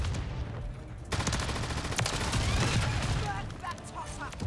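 Gunfire from a shotgun in a first-person shooter game, a burst of loud overlapping shots filling a few seconds, with no voice over it.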